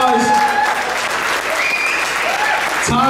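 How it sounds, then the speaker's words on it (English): Guests at a community services gala dinner applaud, a loud wash of clapping with faint voices and tonal sounds mixed underneath. "Really, let's give Tom a round of applause."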